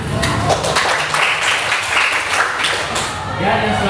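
Classroom applause during an economics lesson, with a steady burst of students clapping together close by and voices mixed in.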